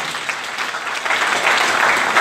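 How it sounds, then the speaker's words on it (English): A church congregation at an all-night prophetic service claps hands together, a dense, steady burst of applause that swells louder toward the end, with no talk over it. "Clap your hands unto the Lord."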